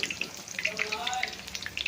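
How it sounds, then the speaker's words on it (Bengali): Eggplant fritters (beguni) frying in hot oil, a close, bright crackle of popping bubbles with scattered sharp spits over a soft bubbling bed. "সো এইভাবেই প্রত্যেকটা বেগুনি আমি ভেজে নেব।"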